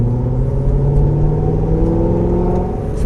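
Supercharged 2006 Corvette with a 6-liter LS2 V8 and Eforce blower revving steadily and loudly up close, a dense continuous engine drone with rising harmonics and no talking.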